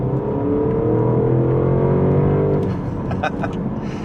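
A 2025 Porsche Panamera GTS accelerating in Sport Plus mode, its engine note climbing steadily and loud from inside the cabin, then easing off with a few clicks and knocks at the end.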